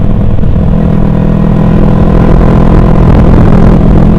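Motorcycle fitted with a LeoVince aftermarket exhaust cruising at about 60 km/h, a steady loud engine drone with low rumble and wind roar running throughout, close and continuous with no talking.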